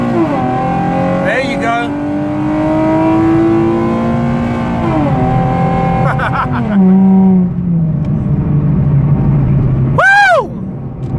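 A modified 2009 Nissan 370Z with a 3.7L V6 pulls away hard from a light, revving up through rising engine notes with quick shifts between, loud and close, ending in a sharp high rev; a voice speaks briefly.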